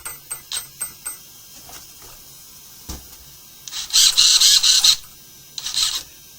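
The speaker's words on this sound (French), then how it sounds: "Donc le ventilo tourne bien" An RC car powering up: a series of sharp mechanical clicks and ticks, a low thump, then bursts of high-pitched whirring from a small spinning cooling fan, close and fairly loud.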